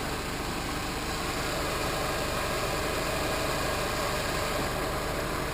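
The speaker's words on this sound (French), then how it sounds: "Donc le moteur tourne très très bien." A Mercedes SLK 230 engine idles steadily with a constant broadband rumble and hum, unchanging throughout, no voices.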